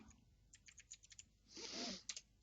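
Quiet keystrokes on a computer keyboard while typing a file name, a few scattered clicks followed by a denser burst and a couple of sharper final taps, close and alone.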